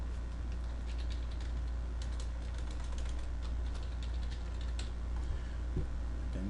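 A password is typed on a computer keyboard, with quiet, irregular key clicks over a low steady background hum.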